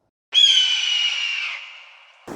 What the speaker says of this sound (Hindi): बाज चीखना।